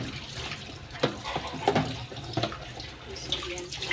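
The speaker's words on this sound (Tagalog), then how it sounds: "Magsindi muna ako ng tubig sa baba." Water running from a household tap downstairs in a home, a steady broadband wash with a few brief clatters and knocks over it, moderately close and continuous throughout.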